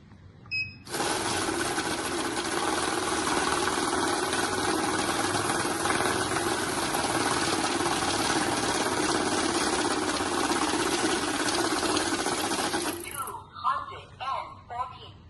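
Best-brand currency counting machine riffling through a stack of banknotes, a steady, loud whirring flutter that runs unbroken for about twelve seconds, then stops abruptly as a few softer clicks and handling sounds follow.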